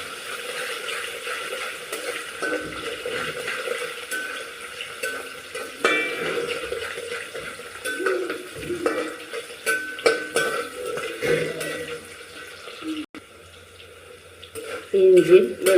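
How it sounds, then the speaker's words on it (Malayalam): Ginger, garlic, green chili and mustard seeds fry in hot oil for a carrot pickle, giving a continuous close sizzle broken by stirring scrapes against the pan, which grow louder toward the end. "ഇഞ്ചി, വെളുത്തുള്ളി, കടുകും എല്ലാം ഒന്ന് പച്ചമുളകൊക്കെ ഒന്ന് എണ്ണയിൽ കിടന്ന് നല്ലോണം വഴണം."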